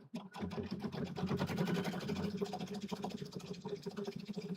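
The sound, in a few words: sewing machine stitching a zipper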